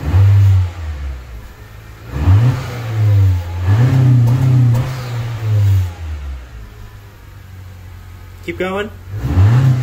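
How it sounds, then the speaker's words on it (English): A 2020 Honda Accord fitted with a Borla S-Type aftermarket exhaust is revved repeatedly, loud close engine swells rising and falling in several pulses, with a person briefly speaking between revs. "Go ahead, rev it."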